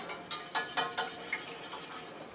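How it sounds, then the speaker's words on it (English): A little whisk stirring pesto in a bowl gives quick, light metallic clinks and scrapes, several distinct taps in the first second followed by softer, steady rattling. "Mix up some pesto. I like to keep stirring it."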